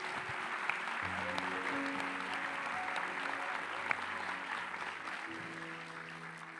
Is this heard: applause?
yes